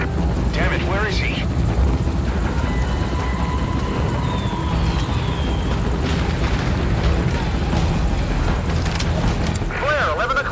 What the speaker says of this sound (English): Keep them off the chopper.